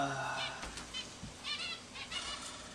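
Domestic birds, geese or chickens, being caught and handled in an enclosure: honks, squawks and bursts of flapping wings, close and irregular, with people talking nearby.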